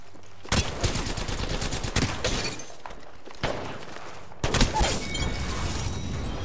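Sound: gunfire in the video game Apex Legends

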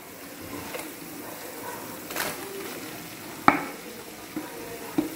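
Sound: onions frying in pan with chili powder and curry leaves

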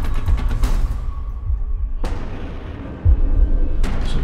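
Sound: explosion

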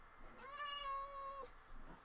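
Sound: cat meowing in the video game Minecraft

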